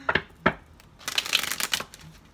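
Tarot cards shuffled by hand in a few quick riffling bursts, two short crisp shuffles followed by a longer rapid flurry, close and fairly quiet with no voice.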